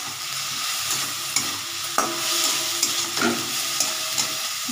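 Whole spices with cinnamon stick and a clove being sautéed and stirred for a potato and soybean curry, a steady close sizzle with scattered spoon scrapes and clinks against the pan.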